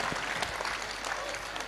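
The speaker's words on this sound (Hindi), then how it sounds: "जोरदार ताली बजा करके आप सब धन्यवाद दें।" Audience applause at a Hindi-language public gathering, a dense steady wash of clapping throughout the short stretch with no voices over it.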